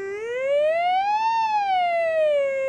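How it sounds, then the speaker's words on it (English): A signal generator's sine wave through a loudspeaker glides smoothly upward in pitch and then back down as its frequency knob is turned, a loud, continuous siren-like tone with no talking. "when you turn that knob is you're changing how fast the signal generator makes the sine wave change."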